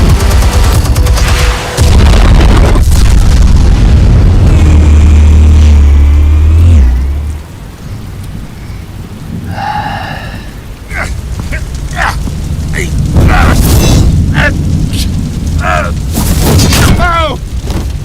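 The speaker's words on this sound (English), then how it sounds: "Explosives armed. Fire when ready." Heavy explosions rumble through a Telltale Batman video game scene, with a long loud boom and roar early on, then crackling blasts, bursts and debris-like impacts as speech passes over the action.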